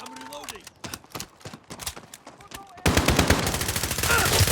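Rapid bursts of automatic gunfire crack out in a Modern Warfare game, with sharp, irregular shots that grow into a dense, louder barrage. People shout over the firing.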